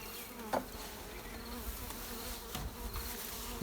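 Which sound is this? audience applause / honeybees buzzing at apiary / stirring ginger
honeybees buzzing at apiary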